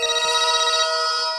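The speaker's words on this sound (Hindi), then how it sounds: "मेरा ही फोन बजा है।" A mobile phone ringtone plays indoors among a group of men in a housing society, a bright repeating electronic melody sounding loudly and alone for over a second.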